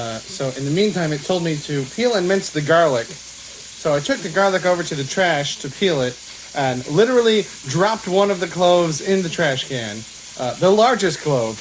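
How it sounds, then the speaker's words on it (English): Pork tenderloin sizzles in hot oil in a frying pan, a soft steady hiss in the background beneath continuous close talking. "you can hear my pork sizzling in the background."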